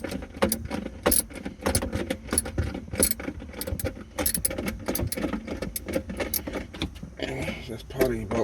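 Wrench with an extension loosening the battery hold-down bolt on a BMW 550i with an AGM H9 battery: quick metallic clicks and rattles close up, steady throughout, with a voice talking over parts of it.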